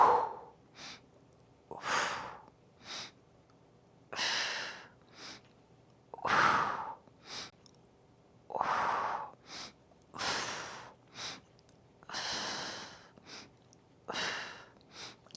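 Slow, deliberate breaths during a mat Pilates exercise, each inhale and exhale audible as a separate close rush of air, about a dozen spread evenly with quiet gaps between them and no talking.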